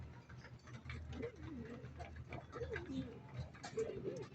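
Red checkered pigeons coo in low, soft, repeated bursts, close by under a steady hum of background noise.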